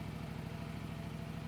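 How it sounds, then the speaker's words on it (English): A CF Moto Explore motorcycle engine idles in a low, steady rumble, close and even, with no voices over it. "Right, I'm going to switch this engine off."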